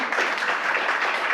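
An assembly audience breaks into collective applause, a dense, steady wash of many hands clapping at even loudness with no pauses.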